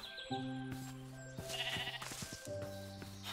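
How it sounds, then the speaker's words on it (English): A sheep in the Minecraft video game bleats in several short, quiet wavering cries, heard alone over a faint game background. "Oh, there's a sheep."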